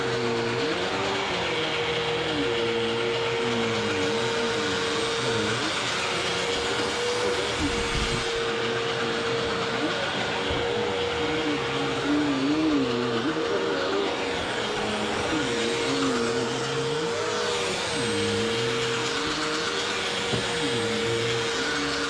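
Bissell Power Lifter Pet upright vacuum cleaner running steadily on carpet, a loud continuous motor whine with a strong tonal hum and shifting airflow rush, close and alone, with no pauses across the whole stretch.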